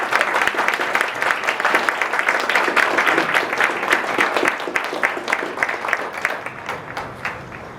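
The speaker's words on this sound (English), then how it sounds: "please join me in a big round of applause for the families of the child" Sustained applause from a large audience at a Marine Corps recruit graduation ceremony at MCRD San Diego, loud, dense clapping holding steady for several seconds before thinning slightly toward the end.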